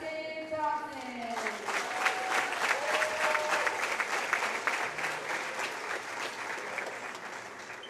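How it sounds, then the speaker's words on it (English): Sustained crowd applause in a high school gym for a senior basketball player, steady clapping filling the space for several seconds while a voice speaks over the start. "Everyone, please give a round of applause for senior basketball player number 10, Tristan Thompson."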